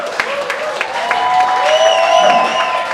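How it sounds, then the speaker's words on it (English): Steady applause from a crowd at a battle of the bands concert, with a few whoops and whistles rising above the clapping. "give a round of applause for all the bands that have played so far tonight"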